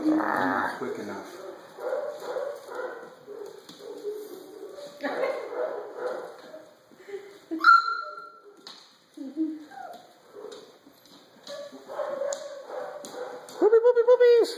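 Puppies yip and whimper in scattered high-pitched bursts nearby, with people talking between the cries and a louder whine near the end.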